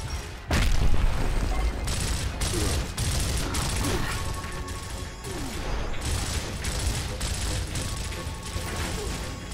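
A frag grenade detonates in the Gears of War video game amid chaotic combat: a sudden loud blast followed by repeated bursts of gunfire, crashes and mechanical clatter, with faint voices underneath.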